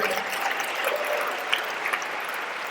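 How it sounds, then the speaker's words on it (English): Steady round of applause from a town hall audience with Congressman Jerry Nadler and Neera Tanden, a dense even wash of many hands clapping at moderate distance, no talking over it. "Let's give a round of applause for everyone here tonight"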